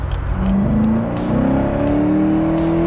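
A Corvette C7 V8 accelerates hard on a German road, its loud engine note climbing steadily in pitch through the gears as a continuous close-up roar with no talking.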